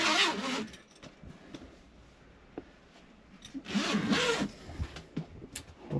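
A small zipper on a canvas bag made by Charlestown Canvas, fitted inside an RV, is pulled in quick scratchy bursts, one at the start and a longer rasping run near the middle, close and fairly quiet.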